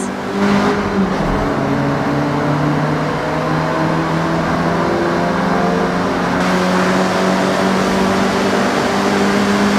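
A Honda Civic RS engine drives in the Forza Horizon 6 racing game, holding a loud, steady, buzzing hum through the whole stretch, with slight rises in pitch as it pulls along.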